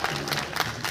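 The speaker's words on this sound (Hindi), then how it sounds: "जोरदार तालियों के साथ" An audience applauds a poet on a stage at a poetry gathering, a short burst of close, dense clapping with crowd noise behind it.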